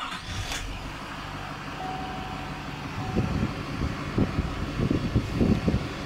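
A 2009 Chevrolet Silverado 3500HD Duramax diesel starts up: a low engine rumble swells after a few seconds into a knocking, pulsing diesel idle over steady background hum.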